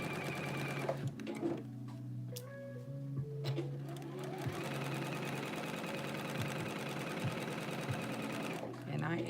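A sewing machine stitches seams on cotton-blend pants at a 5/8 inch seam allowance, running in steady bursts with a brief pause and restart, close and loud, while a person talks over it.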